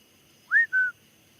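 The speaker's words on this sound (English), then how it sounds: "Yep, there's a whistle." Two short, quick whistle notes, the first rising and sliding, the second level, both clear against a quiet background.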